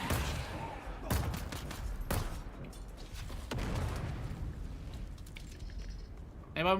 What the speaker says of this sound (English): Any more people shooting at us?